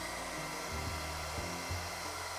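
A hair dryer blows with a constant whooshing roar and a shifting low motor hum, close and steady throughout, no voices.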